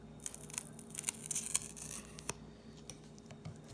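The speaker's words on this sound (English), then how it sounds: "let me cut an angle as well with this scissor" Scissors snip through thin material to cut an angle, a few quick crisp cuts close by, followed by quiet handling scrapes against a low steady hum.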